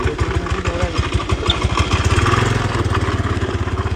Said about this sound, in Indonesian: Ini motor ke apa? Macam nak berderai je ni.